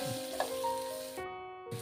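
Onions sautéing in a hot pan for a Kerala-style soya chunks biriyani give a steady close sizzle with soft stirring scrapes, briefly dropping away near the end before resuming.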